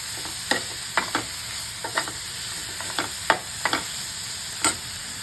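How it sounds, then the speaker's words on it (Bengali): Onions go into a hot pan and sizzle quietly while a utensil stirs and scrapes in short irregular taps, with a high steady hiss underneath. No speech. "এবারে পেঁয়াজ দিচ্ছি।"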